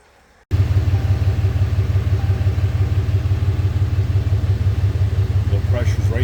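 A truck engine cranks and catches abruptly after near-silence, then settles into a loud, steady, low throbbing idle that runs on without break, with a faint voice near the end.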